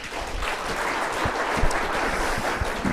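Audience applause welcoming a speaker onto the stage at a corporate talk: a dense, steady wash of many hands clapping for about three seconds, with a few sharper claps standing out.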